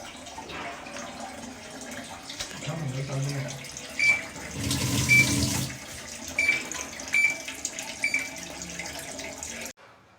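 Water runs and splashes down near a washing machine, a steady close trickle that swells into a louder rushing stretch in the middle before cutting off abruptly.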